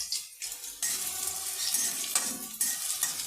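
Chili and onion frying in hot mustard oil in a wok, a steady bright sizzle with stirring scrapes, loud and close, with no talk.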